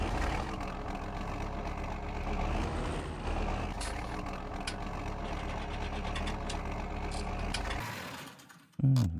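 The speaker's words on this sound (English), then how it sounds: "It's a nice tractor for real." Tractor engine in Farming Simulator 19 on a dairy farm, a steady low diesel rumble with occasional clicks and mechanical clunks, cutting out abruptly near the end followed by a brief sharp sound.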